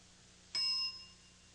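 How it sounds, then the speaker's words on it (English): A single bright game show bell ding rings out once on the late-1980s word game show Blackout, striking sharply and then ringing down into a fading tone, heard alone. "start describing it when the bell sounds"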